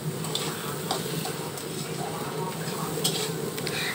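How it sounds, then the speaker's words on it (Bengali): Vegetables with turmeric powder being stirred in a pan, a steady low sizzle under repeated scraping and light clinks of a spatula against metal. "এরপরে আমি কিছু সময় নেড়ে নেব।"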